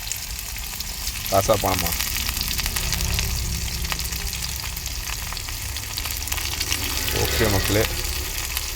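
Onions frying in a pan for Tamil egg gravy, a steady sizzle running throughout, with people talking over it now and then and clinks of stirring.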